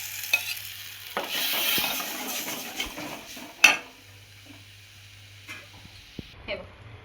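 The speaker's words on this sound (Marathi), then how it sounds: "आता मी ह्याच्यामध्ये मस्त कडकडीत कढीला फोडणी देते" Pan sounds from tempering a Maharashtrian buttermilk kadhi: spoon stirring and metal scraping with a soft sizzle of hot oil, a sharp clatter partway through, then quieter scattered clinks and faint background hum.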